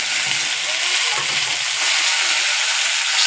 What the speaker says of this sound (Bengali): তেল গরম হয়ে গেছে, এবার বিনস আর আলুটা কেটে রেখেছিলাম সেটা দিয়ে দেবো